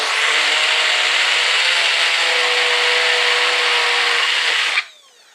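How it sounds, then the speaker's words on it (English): A small bullet blender whirs loudly and evenly for nearly five seconds, then cuts off abruptly and winds down to silence. "it's just a little bullet blender in there if you want to do something small"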